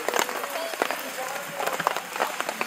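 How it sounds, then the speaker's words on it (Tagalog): Steady rain falls at a campsite in Tanay, a continuous patter across the surface with scattered close drops and knocks, while people talk nearby. "Umuulan pa rin."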